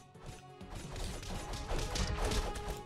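Crashing and smashing effects from the Castle Crashers video game during two-player co-op play, a dense run of thuds, clatters and breaking impacts that builds in loudness, with no talk.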